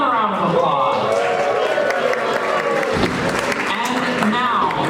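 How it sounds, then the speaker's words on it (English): Audience applause and crowd noise at a HORD 2025 1lb combat robot event, sustained and dense clapping for about five seconds with a voice talking over it. "Let's give them a round of applause."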